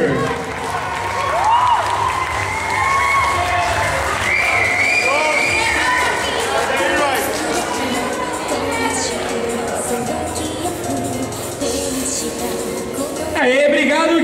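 A crowd applauds and cheers for a cosplayer dressed as the Ice King from Adventure Time at a winter cosplay parade, loud and sustained with shouts and a host's voice talking through it.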